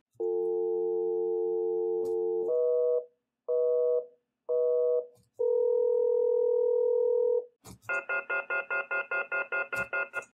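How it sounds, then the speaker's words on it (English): North American DTMF telephone tones played through a speaker: steady sustained tone pairs, several short beeps, and then a fast run of repeated pulsed tones, all clear and loud with nothing else heard. "I'll just do a quick run through again, generating those tones in the speaker."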